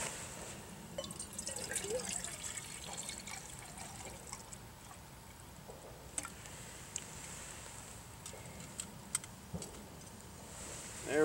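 Water is poured into a pot set on a new wood stove to boil, a soft trickling and gurgling flow with occasional small ticks and clinks, faint and steady with no speech.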